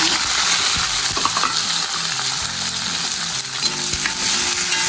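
Onions sautéed in oil with cinnamon and cloves in a pan, a loud, close sizzle with constant stirring and scraping of a spoon against the pan, steady throughout and free of speech.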